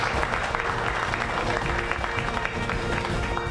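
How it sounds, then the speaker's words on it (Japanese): Audience at a Phil Taylor versus Yuji Eguchi darts match in Japan applauds both players, a dense, steady wash of many hands clapping at even loudness throughout, with faint crowd murmur mixed in. "両選手に大きな拍手お願いいたします。"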